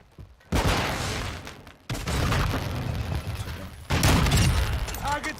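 Grenade blasts and gunfire in Modern Warfare 2, three loud booming bursts with crackling shots and rumble between them, over a fairly busy battle din.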